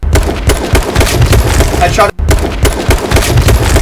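Rapid automatic gunfire from a first-person shooter video game crackles in loud, close bursts with heavy thumps, broken by one brief gap.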